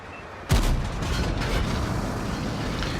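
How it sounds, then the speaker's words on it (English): A tank cannon fires a single heavy boom in a World of Tanks style battle from an IS-4, a sudden close blast followed by a rolling rumble and sustained engine noise. "I go for a blind shot on the tank destroyer back there"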